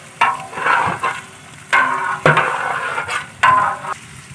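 Tomatoes frying in a large pot for degi chana biryani, loud bursts of stirring and scraping that come in several separate strokes over a low background sizzle.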